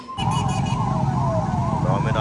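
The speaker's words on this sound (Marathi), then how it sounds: "ही काय आहे? ॲम्ब्युलन्स आहे वाटतं." An ambulance siren wails steadily nearby, its tone sweeping up and down, with faint traffic noise beneath.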